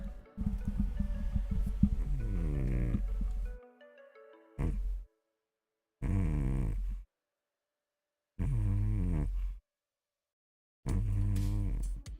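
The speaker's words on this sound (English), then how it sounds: "The cat is snoring." A sleeping cat snoring, recorded close with the gain turned way up. Four or five separate rumbling, throaty snore breaths come at a slow regular rhythm, with silence between them and no talking.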